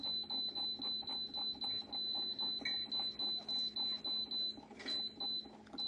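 A bread machine beeps in a repeated rhythmic series of short electronic tones while the knead timer is being set, fairly faint against a low background hum.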